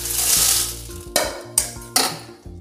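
Chillies and coriander seeds dry roasting in a pan for mutton gravy, with a steady dry rustling hiss, then several sharp scraping stirs and clinks of a utensil against the pan at close range.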